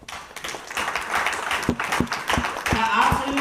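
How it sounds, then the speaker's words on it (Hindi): An audience at a sales training seminar claps, with a few sharp, separate hand claps gathering into scattered applause beneath someone speaking loudly over them. "थाईलैंड गए एक बार जोरदार ताली सबके लिए।"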